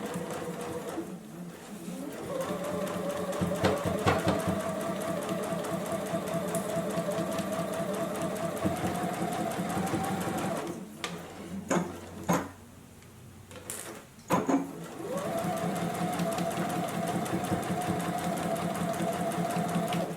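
A JUKI sewing machine stitches the side seam of a face mask, a steady loud mechanical hum with rapid needle rhythm, briefly stopping and restarting midway with a few clunks before running again.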